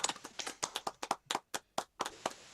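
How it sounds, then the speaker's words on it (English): Scattered clapping from an online event audience after a performance, a dozen or so separate sharp claps in uneven bursts, fairly close and fairly loud, with no voices over them. "Clapping once more again"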